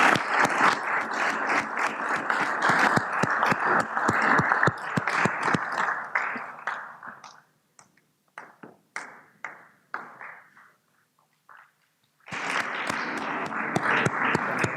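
A conference audience at a CEO summit panel in Ghana claps loudly, the applause thinning into a few scattered claps before swelling back into full, steady clapping near the end.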